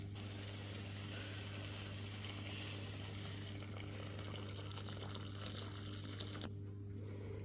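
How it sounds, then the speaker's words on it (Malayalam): Hot water pours steadily into a pot of green mango rasam, a soft continuous trickle over a low background hum, with the pouring easing off near the end. "അപ്പോൾ നമുക്കിതിലേക്ക് ഇനി ചൂടുവെള്ളം ഒഴിച്ച് കൊടുക്കാം."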